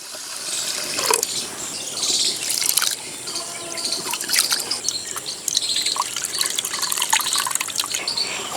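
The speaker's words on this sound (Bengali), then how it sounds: "এবার জল দিয়ে দেব।" Water gushes and splashes as it is poured into rice in a pot for chicken khichuri, about two litres to a kilo of rice, a continuous close pour with drips and no talking.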